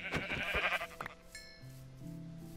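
Sheep in Minecraft let out several bleats, a wavering cry followed by shorter calls, fairly close and clear over a quiet game background.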